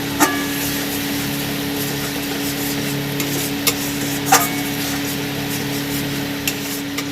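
Chilli powder masala being stirred in hot oil in a pan while preparing a pangas fish curry, with a low steady sizzle and a few sharp clicks and scrapes of the spoon against the pan, close and alone.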